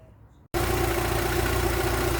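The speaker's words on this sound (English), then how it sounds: "And that's the engine running." A Rover 45 car engine idles right after a spark plug lead change; a quiet moment gives way to a sudden, loud, steady idle hum with an even low throb and no talk over it.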